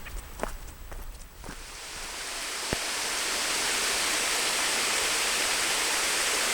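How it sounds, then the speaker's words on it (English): Tise Falls in a gorge at Hanging Rock State Park, North Carolina: a few footsteps first, then a loud, steady waterfall roar that swells and fills the scene, with no talking. "you can probably tell by the sound of water"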